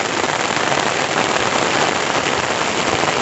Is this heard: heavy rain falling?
yes